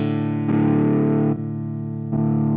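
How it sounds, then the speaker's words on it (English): Electric guitar runs through the drive block of an Axe-Fx II processor, giving a thick distorted sustained tone. Three held chords ring in turn with short breaks as they change, loud and upfront with no voice. "you hear that's a distortion effect coming through it"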